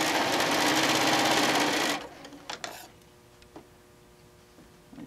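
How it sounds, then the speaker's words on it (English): Sewing machine running a quick back stitch while making a fabric machine cover, a steady loud mechanical whir for two seconds, then stopping with a few faint clicks and handling sounds. "because my thread broke, I'm just hitting the back stitch"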